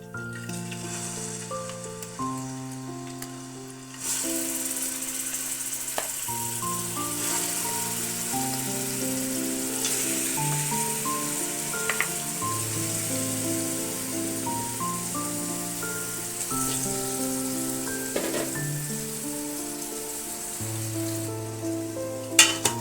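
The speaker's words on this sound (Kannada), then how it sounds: "ಎಣ್ಣೆ ಕಾದ್ಮೇಲೆ ಚೆನ್ನಾಗಿ ಮಟನ್ನ ನೀರು ಬಿಟ್ಕೊಂಡು ಬೇಯೋ ತನಕ ಒಗ್ಗರಣೆಲಿ ಸುಂಡಿಸ್ಬೇಕು" Mutton, 1.5 kg, frying in a hot oil tempering gives a steady, dense sizzle from start to finish, with brief stirring clatters and background music playing over it.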